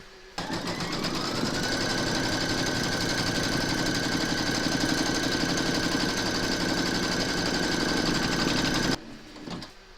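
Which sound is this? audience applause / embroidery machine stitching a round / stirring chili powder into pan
embroidery machine stitching a round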